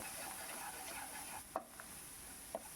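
Ground tomato paste cooks with spices for a chicken curry, a faint, soft sizzle with light stirring and a couple of small clicks from the pan, quiet and without speech.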